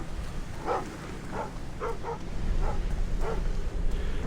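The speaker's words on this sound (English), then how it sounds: "so we don't have to worry about the fact that the dog's making a racket." A guard dog in the stealth video game Thief barks repeatedly in short, evenly spaced yaps, heard at moderate distance over a low ambient hum with no talking.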